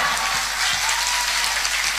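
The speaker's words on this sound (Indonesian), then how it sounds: "Tepuk tangan untuk santri kan Tito." An audience at a lively religious sermon event bursts into sustained applause, a dense, even wash of many hands clapping, loud and continuous with no voices over it.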